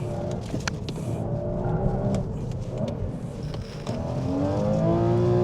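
A 270-horsepower Porsche bought from Copart runs on a race track as it tries to drift, its engine a steady, continuous drone with rising revs toward the end and no voices.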